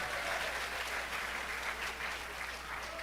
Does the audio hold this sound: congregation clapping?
yes